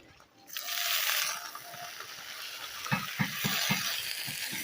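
Cabbage tipped into a pan of frying potatoes in a Bengali fish-head cabbage ghonto, giving a burst of loud sizzling followed by steady frying hiss and several scraping stirs near the end.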